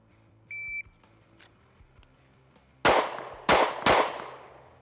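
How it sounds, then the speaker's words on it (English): Three sharp pistol shots from a Kimber CDS9 Classic 9mm at an indoor range, fired in quick succession near the end, loud and close, preceded by a brief electronic beep of a shot timer. "Let's do 3 rounds in the A-zone target."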